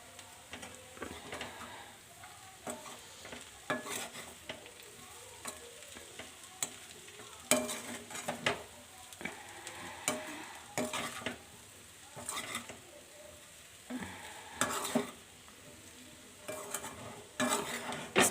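Food stirred and mixed in a pan, with repeated scraping and clinking of a utensil against metal over a soft sizzle, close but fairly quiet, and no talking.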